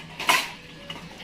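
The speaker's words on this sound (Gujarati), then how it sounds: "મમ્મી તો વાસણ ધોવા બેઠી હા" Dishes being washed by hand at home, giving a quick clatter of pots and utensils that peaks briefly, then a faint second clink, close by with no talking.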